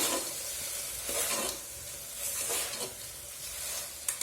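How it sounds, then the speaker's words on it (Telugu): Brinjal curry mixed with coriander powder in a pan, a gentle stirring scrape over a steady sizzle, close and moderately quiet with no talking. "వేసుకున్న తర్వాత ఒకసారి కలుపుకుందాము"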